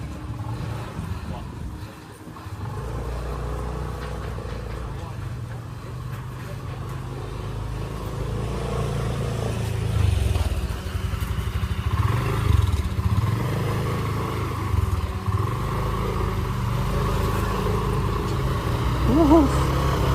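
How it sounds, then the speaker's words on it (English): Steady traffic of cars and motorcycles on a one-way street in Kuta, Bali, heard from the roadside on foot, with continuous engine rumble and passing revs rising and falling throughout, nearby voices faintly mixed in. "one way for the cars."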